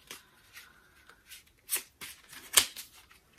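A deck of playing cards riffled and shuffled by hand, soft close flutters with a few sharp snapping bursts, quiet and alone.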